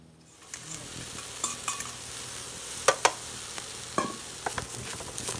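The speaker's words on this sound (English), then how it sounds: "Flavor that sesame oil with the garlic. Get our eggplant in there." Eggplant frying in sesame oil with garlic in a pan on an induction cooktop, a steady close sizzle with scattered utensil scrapes and taps against the pan, no talk.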